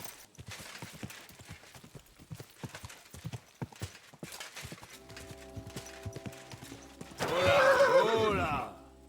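Horse hooves clip-clop steadily in Kingdom Come: Deliverance II as a rider heads toward the mines, then a loud neigh rings out near the end.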